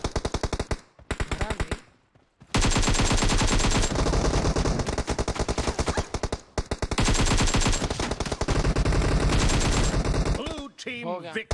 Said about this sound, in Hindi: मैं इतनी दूर से शॉटगन मार रहा हूँ उसको